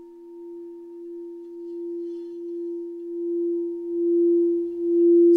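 Super 7 crystal alchemy singing bowl with androgynous indium ringing a single steady, pure tone that sustains evenly and swells slowly in volume, heard alone and up close.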